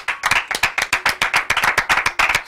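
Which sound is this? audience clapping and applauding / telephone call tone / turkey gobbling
audience clapping and applauding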